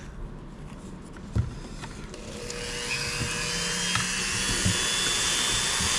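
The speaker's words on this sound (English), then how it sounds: "What I need to do now is see if I can drill this without breaking a bit." A drill boring into the metal of an OTF automatic knife during a repair, a thin high-pitched whine that builds and holds steady, preceded by a few faint knocks and handling sounds.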